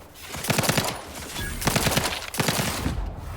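Gunfire in the video game The Outer Worlds 2 comes as three rapid bursts of automatic fire, loud and close, separated by short pauses.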